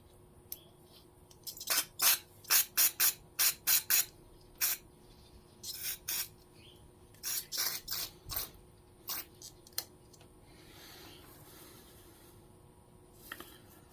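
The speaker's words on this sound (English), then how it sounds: "what we're using here, just some Cam 2 carb cleaner" Cam 2 carb cleaner sprays into the carburetor of a 1976 Kawasaki KZ400 in a series of short, close hissing bursts, some grouped rapidly and others spaced apart, with no voices over them.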